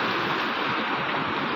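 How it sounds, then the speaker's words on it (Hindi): Fast-flowing flood water in Dera Ismail Khan rushes in a loud, steady, broadband roar close by, with no break or voice over it. "बहुत ज़्यादा तेज़ पानी है,"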